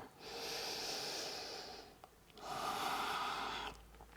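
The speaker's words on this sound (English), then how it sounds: "And one more deep breath." A deep breath during a yoga flow: a long, slow inhale followed after a brief pause by a long exhale, close and soft, with no talking.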